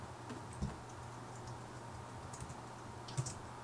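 Light typing on a computer keyboard during web design work, soft scattered key taps at a steady moderate pace with a couple of slightly louder clicks, quiet and close over a faint hum.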